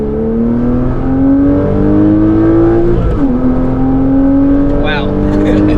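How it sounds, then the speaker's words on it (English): Inside a Porsche Cayman S, the six-cylinder engine pulls hard through the gears, its loud rising drone dropping at one upshift and then climbing again, with people talking over it. "So for a little 6-cylinder, this car can get up and go, man."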